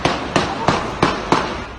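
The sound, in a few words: gunshots recorded on social media video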